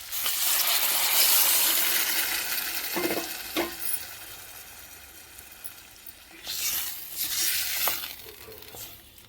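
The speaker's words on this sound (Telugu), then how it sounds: "ఇప్పుడు దీనిలో మనము వాటర్ వేసుకుందాము" Water poured into a pot of quinoa prawn biryani, a loud continuous rush and hiss that fades, followed by a couple of metallic knocks and a second shorter surge of sizzling pouring.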